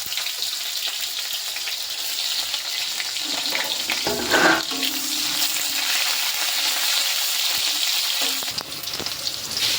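Chopped onion hits hot spiced oil and fries with a loud, continuous sizzle, with a brief burst of stirring midway; close and steady with no speech.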